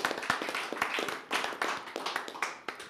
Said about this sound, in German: Einen herzlichen Applaus für Michael Theurer